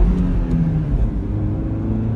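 A Lada Largus car accelerating at full throttle, its engine a loud, close, steady rumbling drone that builds without pause and with no talking.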